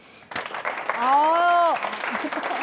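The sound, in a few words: applause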